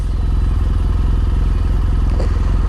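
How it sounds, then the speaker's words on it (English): The suspension on a BMW GS adventure motorcycle is lowered, giving a loud steady mechanical drone with a fast pulsing rattle and a brief clunk near the end. "let me just lower the suspension"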